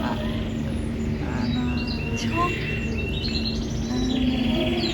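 Canaries trill and chirp continuously over a steady low hum at an aquarium and bird park in Trabzon, with a brief spoken word in the middle.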